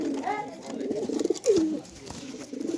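Caught pigeons give soft, low coos close by, a few brief rolling calls under a man's quiet speech.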